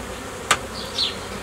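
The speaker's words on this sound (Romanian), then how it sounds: "Iată Albina care a rămas după mutare" Honey bees drone at the hive in a brief close-up hum, with a sharp knock partway through and a single bee buzzing by.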